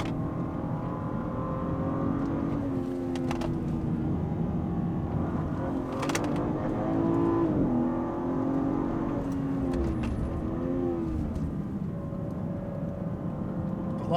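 A BMW M3 on Hoosier TrackAttack Pro tires drives a handling course, its engine droning and rising and falling in pitch through gear changes from inside the car, with brief knocks and rattles.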